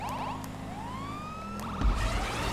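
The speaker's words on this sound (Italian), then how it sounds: "Ho sentito una sirena strana." A wailing police siren from GTA 5 Online sweeps up and down in pitch, fairly close and steady, with a low engine rumble underneath and a thump near the end.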